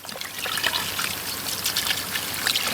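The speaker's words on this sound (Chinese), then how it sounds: "冰水倒进来" Ice water trickles and splashes steadily into a bowl over cooked chicken, a light continuous pouring sound close by.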